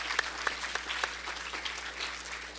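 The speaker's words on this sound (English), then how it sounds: "Let's give him a round of applause," Applause for a lecturer at a public lecture, a brief burst of an audience clapping with a few distinct sharp claps, moderate in volume and fairly even.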